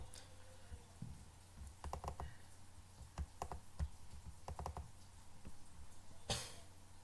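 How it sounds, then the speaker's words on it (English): Keys on a computer keyboard are tapped in short, irregular clusters of soft clicks, heard up close in a quiet room with no talking. "So I am going to type"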